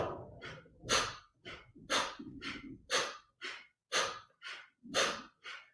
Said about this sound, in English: let's force the air from the nose whilst we pump in forcefully at the navel